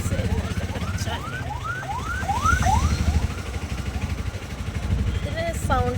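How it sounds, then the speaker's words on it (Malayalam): An ambulance siren passes on a busy road as a vehicle climbs a flyover in Perinthalmanna. Its loud, repeating rising wails sweep over a steady rumble of traffic, and a second burst of siren sounds near the end. "ആംബുലൻസ് വരുന്നുണ്ട്."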